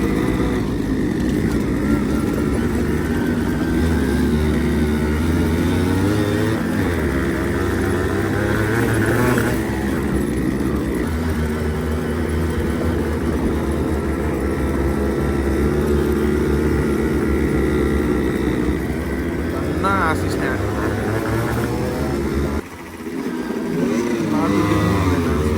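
Several Yamaha RX two-stroke motorcycles ride together in Kathmandu, their engines giving a loud, continuous, buzzing drone with rising and falling revs that briefly dips near the end.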